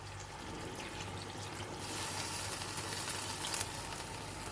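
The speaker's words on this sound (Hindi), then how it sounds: "तो इसलिए मैं थोड़ा सा इसके अंदर पानी ऐड करूँगी।" Water is added to a simmering lamb and okra curry (bhindi gosht) in a pan, producing a soft, faint pour and sizzle that swells slightly toward the end, with no talking.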